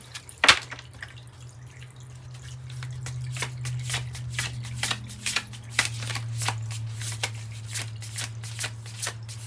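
Modern goddess oracle cards are shuffled in a series of quick, crisp riffling flicks, repeating rhythmically at close range over a low steady hum.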